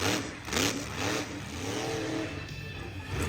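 A monster truck engine revs loudly and continuously at an off-road beach event in Pungo, Virginia, the roar rising and falling close by with no talk.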